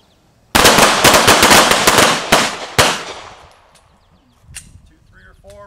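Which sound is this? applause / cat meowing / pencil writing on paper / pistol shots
pistol shots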